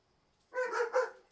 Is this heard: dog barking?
yes